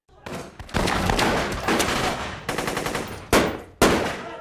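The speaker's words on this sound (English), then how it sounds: "Suddenly, gunshots erupted." Bursts of rapid gunfire from a cartel film crackle and roar, dense volleys broken by a few sharp, louder single shots near the end, with a faint voice underneath.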